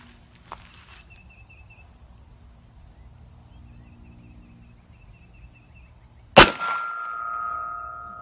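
A single shot from a North American Arms single-action .22 Magnum mini revolver, a sharp loud crack followed by a sustained metallic ring from a struck steel target, after quiet outdoor ambience with a faint click earlier.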